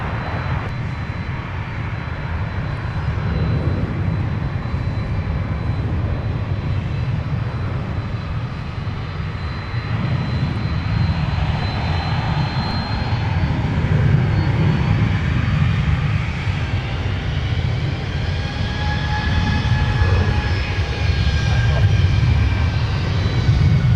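An airliner powers up for takeoff on runway 17 at Minneapolis–St. Paul airport, a loud, continuous engine roar that builds and whines over the whole stretch, with speech faintly beneath.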